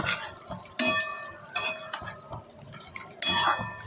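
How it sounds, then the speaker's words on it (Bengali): Panchmesali mixed vegetable curry is stirred in a pan, a spoon scraping and clinking against the metal in uneven strokes with a few sharp knocks, over a soft sizzle underneath. "আবারও একটু ভালো করে মিশিয়ে নিচ্ছি।"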